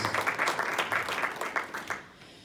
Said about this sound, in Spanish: Si le dan un aplauso al Señor, porque Dios es bueno.